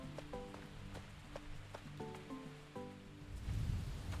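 Soft rain patters steadily beneath light tonal game music and chimes in the Roots of Pacha farming game, faint and even, growing a little fuller toward the end.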